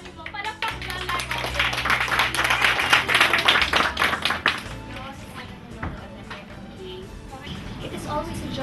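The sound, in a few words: applause, audience clapping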